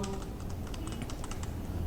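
Steady, fast typing on a computer keyboard while entering heading text in MS Word 2019, heard as a continuous close patter of key clicks over a constant background hum, with no voices.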